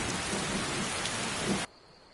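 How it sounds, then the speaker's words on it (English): Thunder rumbles beneath loud, steady rain in a Skyrim storm, the roar holding for about a second and a half before cutting off abruptly to near quiet. "Thunder!"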